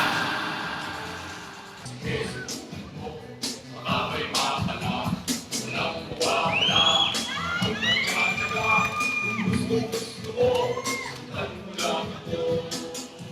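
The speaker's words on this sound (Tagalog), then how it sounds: "Palakpak!" Guests at an 18th birthday celebration cheer and shout loudly, a lively crowd roar with excited voices rising and falling over several seconds.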